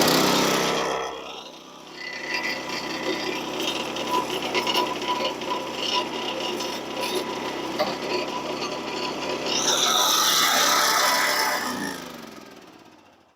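A hydraulic Harbor Freight backhoe thumb being worked gives a loud, continuous engine drone with hydraulic whine that rises briefly near the end before cutting off.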